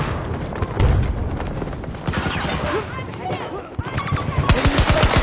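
Rapid gunfire bursts and shots from the video game Battlefield 2042, loud and dense throughout, with heavy low booms and crackling volleys layered over in-game combat noise.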